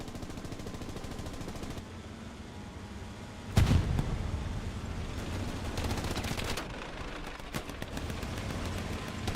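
Tank cannon fire in a World War II tank battle video game involving a Tiger, a sharp loud blast partway through followed by lighter distant shots and crackles over a rumbling engine bed.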